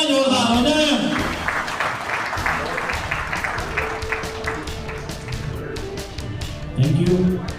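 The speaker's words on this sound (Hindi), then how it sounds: "महासभा में तालियां जोरदार हो जाए।" Applause from the audience at a seminar marking International Jat Day in Vasant Kunj, a steady wash of clapping running throughout beneath voices and a speaker talking over it.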